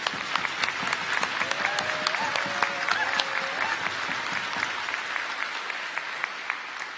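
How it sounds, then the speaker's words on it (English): Sustained applause from a convocation audience honouring graduating justice programs students: dense, even clapping from a large crowd that carries steadily throughout, with faint voices and a whistle-like tone mixed in. "we ask that you honor these students by giving them a round of applause"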